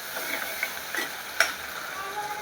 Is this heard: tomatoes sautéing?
yes